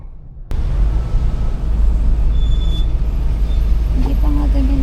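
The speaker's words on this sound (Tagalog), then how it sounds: "Grabe, sobra yung traffic." Heavy road traffic on a highway near La Union, heard from a PCX 160 scooter: a steady loud low rumble of engines with buses and trucks, a brief air-brake hiss and squeal near the end.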